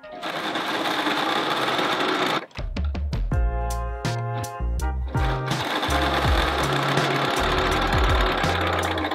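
Sewing machine running a gathering stitch along the bottom of a dress bodice, from a 1990s Laura Ashley pattern; a loud, steady mechanical whir breaks off briefly, then resumes as bursts of rapid stitching with a rhythmic thump.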